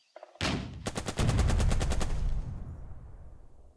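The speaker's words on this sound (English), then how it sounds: "Fire on the truck." Gunfire aimed at a truck in the WW2 turn-based tactics game Burden of Command: a loud, sharp burst of rapid automatic shots, about a dozen evenly spaced cracks, followed by a sustained rumbling tail, with no talking.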